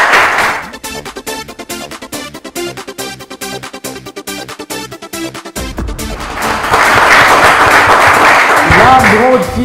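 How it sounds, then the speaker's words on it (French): A game show audience applauds, dense clapping under music that swells louder toward the end. "merci de l'applaudir"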